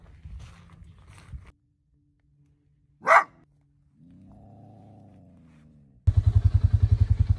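A trapped coyote barks and growls up close, with short harsh barks, a sharp yelp, a drawn-out growl, and a final burst of rapid, loud, pulsing snarls.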